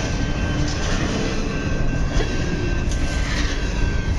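Close and loud, a train thunders by a city park in a steady roar of wheels on track, with brief squeals and clatter rising over the constant low rumble.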